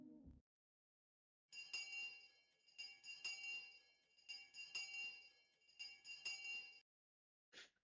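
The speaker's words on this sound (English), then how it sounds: "I heard the ring of the bell declaring the end of the lunch break." A school bell in the Higurashi: When They Cry video game rings out in several bright, metallic bursts after a brief low sound, with a short chime at the end and no talking.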